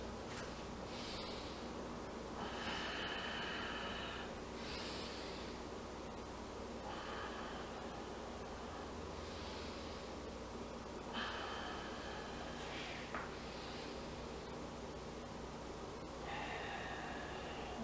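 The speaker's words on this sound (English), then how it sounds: "Exhale down. And inhale up." Slow, deep yoga breaths alternate between inhales and exhales in a steady rhythm, each a soft airy rush against quiet background hiss.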